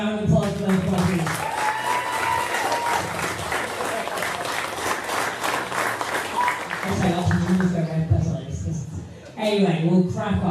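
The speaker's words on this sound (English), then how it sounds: "Can we have a round of applause for those please?" Loud, sustained applause and cheering from a crowd at a strongman competition for under-80kg, under-90kg and junior men, with voices talking over the start and end.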